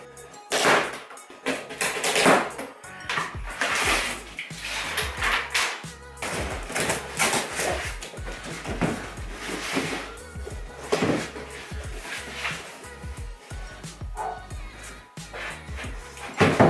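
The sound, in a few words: unboxing a Halowheels Aerotrack bicycle wheelset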